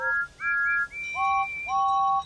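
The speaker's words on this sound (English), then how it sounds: "Thomas gave one toot, and then one after the other." Thomas the Tank Engine's steam whistle toots loudly several times in a row, clear high tones at different pitches with short gaps between them, from a children's animated show.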